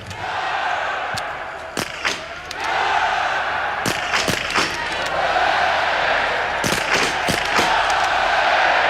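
Crowd at the Ruhpolding biathlon shooting range during a women's World Cup relay, a steady roar of spectators with repeated sharp cheering bursts and claps rising throughout, loud and close.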